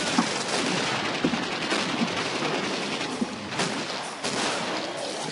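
Pistol shots ring out in the game Killing Floor, a dense, loud run of rapid shots and impacts layered over constant noisy game ambience with no pauses.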